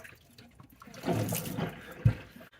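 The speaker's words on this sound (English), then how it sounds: "All right, so I'll plunge." Plunger working a clogged kitchen sink drain, a few wet gurgling slurps and sloshes followed by a sharp watery thump, fairly close and quiet with no talking.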